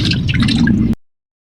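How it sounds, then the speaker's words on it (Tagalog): Pork meat is rinsed with water: a brief close splashing, dripping and squishing that stops abruptly after about a second. "Siyempre, hugasan ko yung aking karni."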